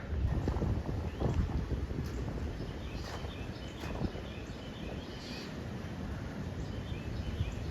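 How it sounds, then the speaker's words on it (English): Gusty outdoor wind during Midwest tornado season, a low rumbling roar buffeting the microphone, stronger at first and easing slightly, with faint rattles and a bird now and then. "it's still pretty gusty, but not like it was earlier"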